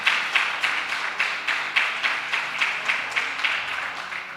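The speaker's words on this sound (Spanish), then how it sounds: "Darle un aplauso a Dios." A church congregation claps together in a steady, even rhythm at a lively worship service. The beats are close and fairly loud, with little talking.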